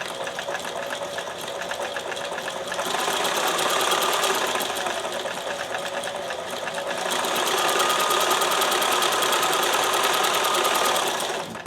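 A sewing machine runs a test stitch after a needle change, a fast, even mechanical chatter that starts, pauses briefly and resumes louder, close and alone with no talk.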